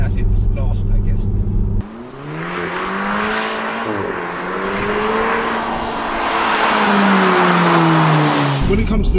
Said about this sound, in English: Really nice exhaust note in this car as well, isn't it?